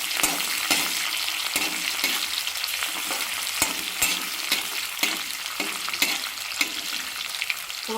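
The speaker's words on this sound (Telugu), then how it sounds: "పోపు మంచిగా వేగాలండి" Green chillies and small onion frying in hot oil for a tempering, a steady close sizzle with repeated sharp stirring scrapes and clinks, no voices.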